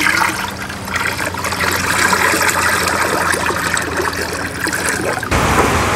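Calcium fertilizer and boron fertilizer dissolving in water inside a drum give a steady, close liquid churning and trickling sound that runs throughout, with a brief change near the end.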